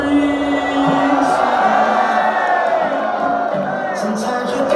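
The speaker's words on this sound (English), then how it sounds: "Somebody screams." A large crowd at a live concert in Osaka screams and cheers continuously, loud and dense, with whoops rising above a sustained roar of voices.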